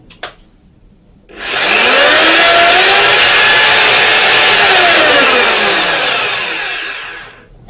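A Zubr ZP-32-1100K professional horizontal rotary hammer runs in reverse, starting after a brief click and holding a loud, steady, close motor whine for about six seconds before spinning down.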